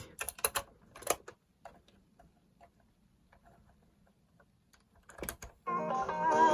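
Buttons on a Sanyo M1760H radio cassette recorder click in a few sharp mechanical clunks, near and loud, with quieter ticks between, then the tape begins playing music at the end.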